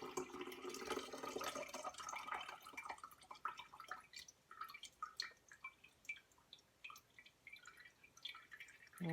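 Buttermilk dripping and trickling from freshly churned homemade butter as it is strained, a wet splattery pour at first that thins into scattered drips, close and fairly quiet.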